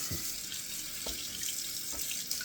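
Steady running water from a bathroom sink tap set to cold, a continuous broadband hiss with a few small splashes, fairly close.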